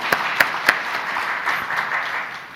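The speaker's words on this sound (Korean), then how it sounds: "우리 율동팀을 위해서도 박수 한번 합시다" A church congregation applauds its dance team during a worship service, opening with a few sharp, loud claps before settling into a softer, even wash of clapping from many people that carries on to the end.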